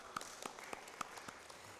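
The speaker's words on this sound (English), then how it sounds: "Another round of applause for Dr. Nahawe." A short burst of scattered applause at a science week talk, a handful of distinct claps at an uneven pace, moderately close.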